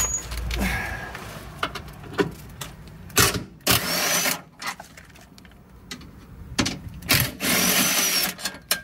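Tools work on 17mm bolts holding the front strut of a BL-generation Mazda 3 during front suspension removal, with close, irregular bursts of ratcheting, clanks and metallic knocks separated by short pauses.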